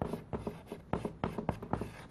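A pen scratches across paper as a name is written on a curriculum vitae, a quick run of short close strokes and taps in an irregular rhythm.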